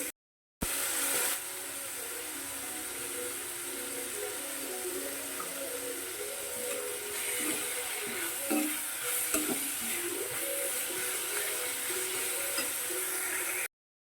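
Onions sautéing in a pan, a continuous soft sizzle with occasional spoon scrapes as they are stirred, moderately quiet and close, with no talking.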